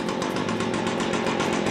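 Stihl FS70R string trimmer engine running steadily with the head clutched and not spinning, a close, loud buzzing two-stroke drone with a fast rapid pulse.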